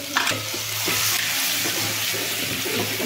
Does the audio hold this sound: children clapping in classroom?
no